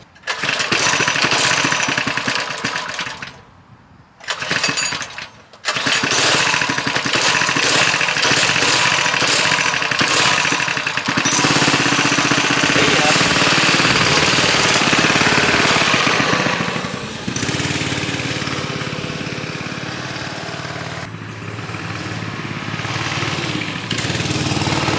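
A Coleman CT100 minibike engine roars loudly and steadily at close range, with a brief cutoff and restart near the start, then keeps running with a rattly, buzzing drone.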